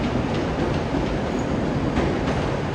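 A ScotRail class 318 electric train pulls out of Glasgow Central station, a steady continuous rumble of wheels and traction with faint rail clatter, fairly close and holding level throughout with no voices.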